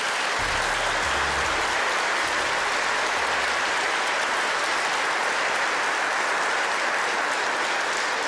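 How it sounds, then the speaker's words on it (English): A crowd at a KC2026 event marking one year until the World Cup in Kansas City applauds elected officials, with loud, dense, continuous clapping from many hands that holds steady for about eight seconds. "So if you'll join me in a round of applause and thanking them for their support"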